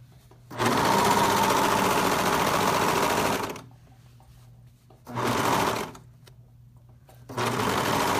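A serger sewing machine stitches fabric for joggers, whirring steadily and close in three runs: a long one, a shorter burst and a final start, separated by quiet pauses.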